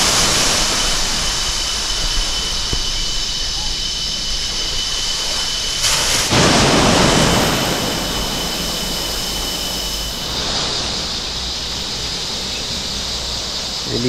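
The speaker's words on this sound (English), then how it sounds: "it's raining" Steady, dense hiss of rain falling at a jetty on Gaya Island, Sabah, loud and unbroken throughout, with a brief swell partway through.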